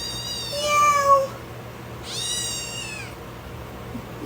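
A female cat lets out two loud, drawn-out meows close by, each a rising, wailing yowl separated by a short pause. A faint steady hum sits underneath.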